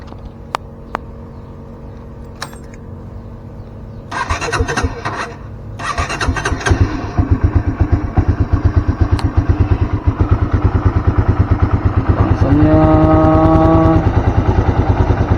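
A motorcycle engine running Unil Opal Racing 10W50 oil after over 2,000 km is cranked on the electric starter with a few short bursts, catches, and settles into a loud, steady idle with a rapid chugging rhythm.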